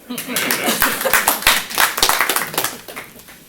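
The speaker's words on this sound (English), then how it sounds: "So clap your hands." Scattered, uneven hand clapping from a small audience at a school district board meeting, individual claps distinct and close, with some talk mixed in.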